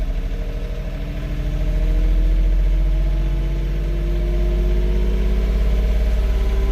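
A diesel engine idles up on its own as DPF regeneration begins, a steady close low rumble with a slowly rising and wavering pitch, no talk over it.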